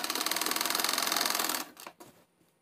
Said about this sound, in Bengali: আমাদের কিন্তু সেলাইটা দিতে হবে।